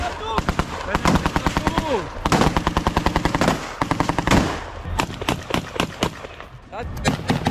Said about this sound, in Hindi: गोलियों की थरथराहट, ग्राउंड ऑपरेशन है